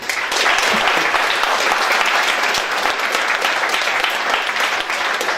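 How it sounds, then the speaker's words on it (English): A university student union general election debate ends with applause for the candidates, a dense, loud and steady wash of clapping from a full room that continues unbroken for several seconds. "Can we please have a round of applause for our candidates?"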